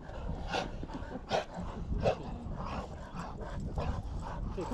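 Four pit bulls bark and yip in short bursts over a busy, noisy background in the snow, with the barks fairly close and recurring every second or so.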